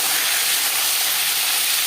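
Bata fish dropped into hot refined oil in a pan, producing a loud, steady, broadband sizzling hiss that holds evenly throughout, with no voices.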